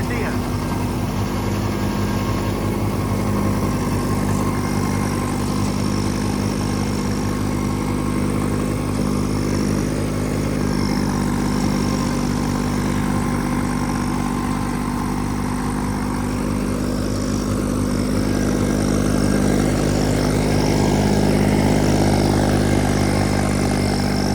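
A heavy Massey 9500 4WD diesel tractor engine pulling a superseeder through straw drones steadily and loudly throughout, its deep rumble slightly rising toward the end.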